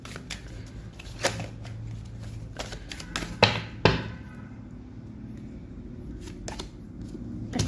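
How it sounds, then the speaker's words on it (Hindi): Cards drawn and slid from a deck, heard as a run of close, crisp flicks and papery snaps, two louder pulls in the middle, over a low steady background hum. "यहाँ से भी मैं 4-5 कार्ड निकालूंगी"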